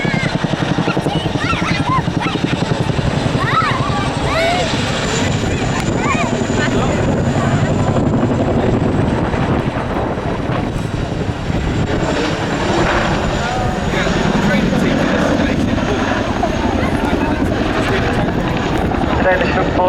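A Chinook helicopter at an airshow climbs vertically, its loud rotor throb filling the whole stretch steadily with broadband roar, while a commentator talks over it.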